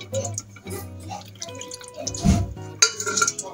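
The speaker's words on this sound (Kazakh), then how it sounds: "Енді сорпасын құйып алам." Meat broth poured over a hot Kazakh dish of lamb and potatoes, heard as soft splashing and dripping with a few light clinks of dishware, steady and close.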